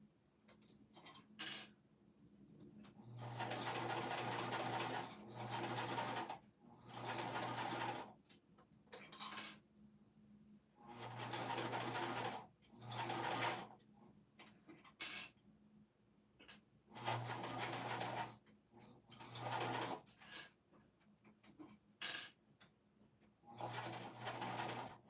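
Domestic sewing machine basting a fabric pouch, short bursts of rapid mechanical stitching chatter separated by pauses with small clicks and handling noises, close and fairly quiet, with no talk.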